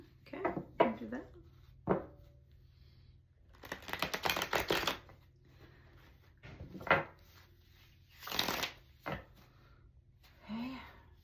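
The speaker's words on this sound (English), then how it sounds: "You want me to shuffle one more time? Okay, I'll do that." Playing cards being shuffled for a reading, with several bursts of riffling and snapping spaced across the passage and separated by short gaps.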